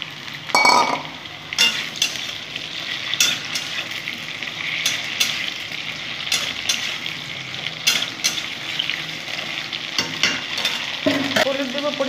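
Taro pieces seasoned with turmeric and salt fry in a pan for a fish curry, with continuous loud sizzling broken by repeated scraping stirs and light clinks of a utensil.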